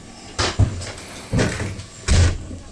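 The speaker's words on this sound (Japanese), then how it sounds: "進行方向左側の扉から閉まります。" Doors of the Hakone cable car between Sōunzan and Gōra sliding shut, giving three distinct thuds and rattles at a steady pace, fairly close and loud against a low rumbling hum.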